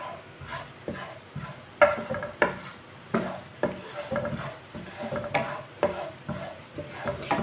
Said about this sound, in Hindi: 2 चम्मच ऑयल डाल लेंगे। 1 चमची साबुत धनिया, आधी चमची गरम मसाला। 1 मिनट के लिए रोस्ट कर लेंगे।